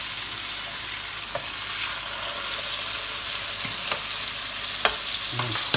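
Sugar pit pork chops frying in a pan, turned over: a continuous steady sizzle, close and even, broken by a few soft clicks and knocks of a utensil toward the end.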